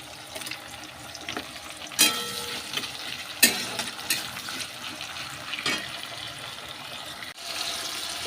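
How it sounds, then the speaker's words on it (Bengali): Tomatoes salted in a pan fry with a steady broadband sizzle, broken by a few sharp stirring clatters and scrapes; close and moderately loud, with no talking. "একটু ভাজা ভাজা হয়ে গেছে টমেটোটা"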